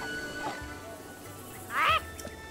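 A chicken in a video game gives one short, loud squawking call near the end, standing out over a quiet game background of faint tones.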